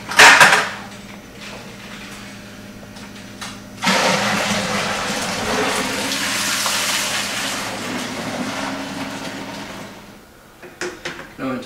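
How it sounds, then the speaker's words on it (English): Hefeweizen wort poured back and forth between vessels during brewing, a loud gushing, splashing flow that runs for several seconds after a brief clatter and then tapers off, followed by small knocks. "Pour it back and forth a couple times."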